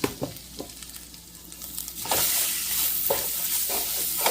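Country chicken frying in a little oil in a pan with curry leaves, stirred with a spatula: scraping strokes over a steady sizzle that swells louder partway through, close and alone with no talk.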